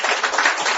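A seminar audience claps briefly in a dense, even burst of applause.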